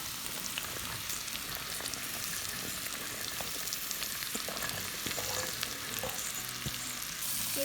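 Okra frying in a pan with potato, a steady close sizzle with crackling pops and occasional stirring scrapes throughout, no talking.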